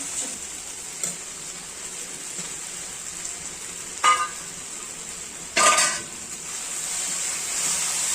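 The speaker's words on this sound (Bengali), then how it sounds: "এবার আমি দেবো টমেটো কুচিগুলো" Chopped tomatoes tipped into a spice mix frying in a pan for a Bengali morola fish tel jhal, with a steady sizzle throughout and two sharp bursts of frying noise as the pieces hit the hot oil.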